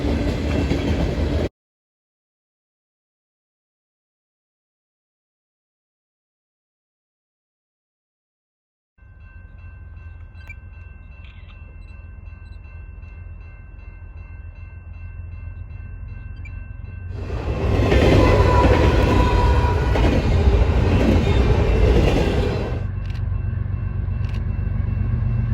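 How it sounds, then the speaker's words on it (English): A northbound double-stack freight train led by a single GE GEVO locomotive rolls past, its low steady rumble and rail noise swelling into a loud, broad roar as it draws near, then settling back to a continuing drone. "Here's a northbound stack train with a single Gevo in the lead."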